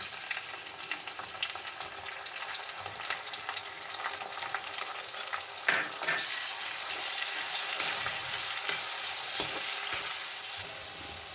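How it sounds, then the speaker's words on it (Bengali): Onion, garlic and tomato frying in a pan for chicken biryani, a dense, steady hiss of sizzling oil with occasional stirring scrapes, close and constant throughout. "ভালো করে ফ্রাই করে নেব 1 মিনিট মতো আবারও। এরপরে আমি টমেটো দিয়ে দেবো।"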